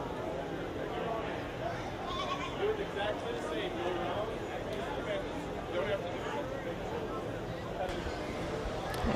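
Young junior doe meat goats, up to three months old, bleat faintly and intermittently at a 4-H/FFA show ring, buried in steady crowd chatter and hall noise.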